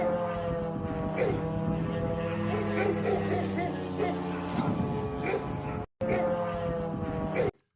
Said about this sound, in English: you're going to hear lots of drones incoming last night